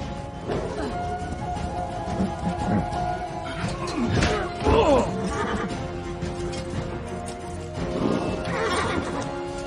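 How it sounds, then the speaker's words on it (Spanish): A horse neighs and whinnies loudly several times in a dramatic film scene, with clip-clopping hooves and bustling action sounds beneath, and a brief voice. "El caballo."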